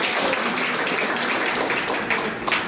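A congregation's loud, continuous applause for the Lord fills a church service, a dense rain-like patter of many hands that stays steady throughout and swells slightly near the end.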